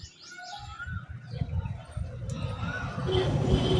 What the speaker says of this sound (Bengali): ওইদিকে কিচিরমিচির পাখির আওয়াজ আসছে।